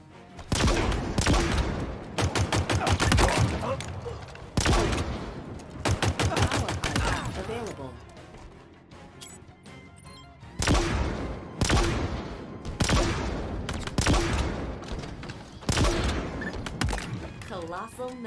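Weapon fire in Halo Infinite comes as loud, rapid volleys of shots in repeated bursts separated by short pauses, close and punchy with heavy thuds.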